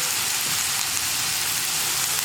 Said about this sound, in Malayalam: അപ്പോൾ ഞാനിനി ഉള്ളിയൊക്കെ നന്നായിട്ട് വഴറ്റിയെടുക്കട്ടെ